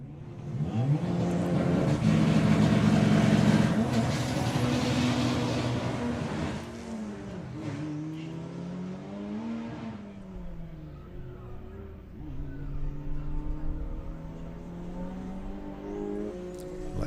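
A VW Passat drag racing at Santa Pod roars loudly and revs through rising engine notes with audible gear changes, then fades into a lower, steadier drone that swells again near the end.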